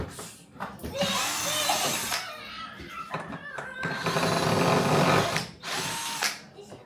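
A power drill unscrews furniture during dismantling for a house move, whirring in uneven bursts up close, with household clatter and faint voices underneath.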